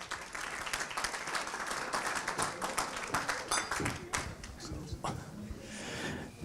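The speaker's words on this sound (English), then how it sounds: "Round of applause for Lance." A room full of people claps steadily and densely for a Country Racing Victoria director stepping up to present an award at a country racing picnic awards night, with voices talking over the applause.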